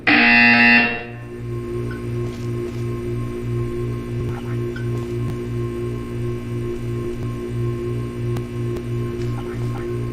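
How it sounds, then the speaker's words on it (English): A steady pulsing buzzer drones through a Portal 2 test chamber, repeating evenly for many seconds over a low electrical hum, after a brief loud burst at the start. "You will hear a buzzer."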